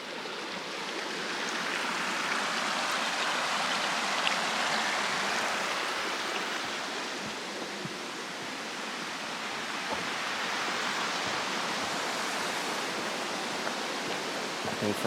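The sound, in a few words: Killen Creek flowing water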